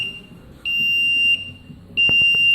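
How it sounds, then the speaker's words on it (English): A filtration system alarm sounds when its pump stops, shrill electronic tones pulsing in long steady beeps, loud and close. "So any problem, you can hear that alarm."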